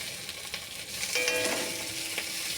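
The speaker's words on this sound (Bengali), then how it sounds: "যতক্ষণ না ব্রাউন কালার আসছে ততক্ষণ পেঁয়াজগুলো ভাজতে থাকবো" Onions fry in a pan until browned for a kochur loti dish, a steady, moderate sizzle with light clinks and scrapes of stirring and no talking.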